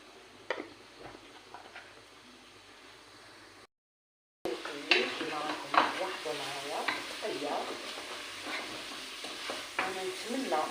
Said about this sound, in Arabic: هذا نحمس نخلي الدجاج تاعي راهو يتحمس